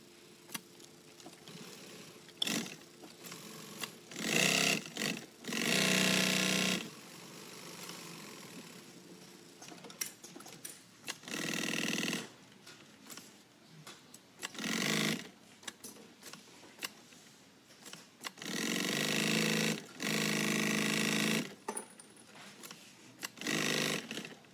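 A sewing machine sews around the main body of a bag with wrong sides together, running in repeated short bursts separated by pauses, close and clear.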